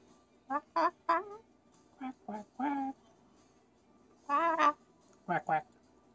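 A human voice imitates a duck, giving short nasal quacks in groups of three and two with pauses between, close and clear against a quiet background.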